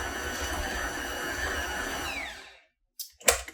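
Cheesy Italian herb dough being mixed by a machine, a steady whirring motor hum with a falling whine that winds down and stops, followed by a brief clatter after a short silence.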